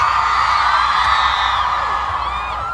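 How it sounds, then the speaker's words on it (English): A live audience at a DigiFest NYC fan event screams and cheers in a sustained, high-pitched roar of many young voices that holds at full strength throughout. "Scream. Scream."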